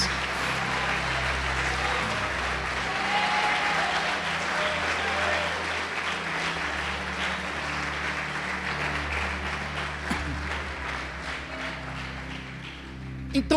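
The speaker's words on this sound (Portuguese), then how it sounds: "Pode aplaudir o Senhor e glorificar a Deus." A church congregation applauds in worship, a long, steady wash of many hands clapping at a moderate distance, with a low sustained musical drone underneath and a few louder claps at the close.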